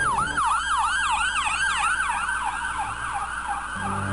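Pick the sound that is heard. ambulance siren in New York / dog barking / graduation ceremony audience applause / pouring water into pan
ambulance siren in New York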